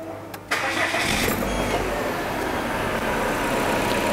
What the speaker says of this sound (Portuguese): Aqui a gente vai ligar o carro agora.